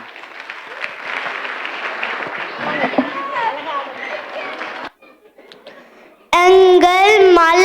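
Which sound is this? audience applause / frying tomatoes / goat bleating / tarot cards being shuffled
audience applause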